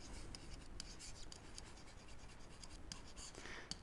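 Steady scratching of a pen or marker writing an equation by hand, a continuous close scritching with short stroke bursts and no talking.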